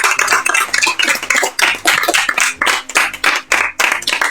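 A small group applauds a player finishing third in a game on a podcast: loud, choppy bursts of close hand clapping with a loosely rhythmic, uneven beat.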